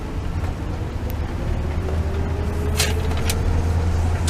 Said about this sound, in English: Oh, I love the sound of that engine and transmission on takeoff.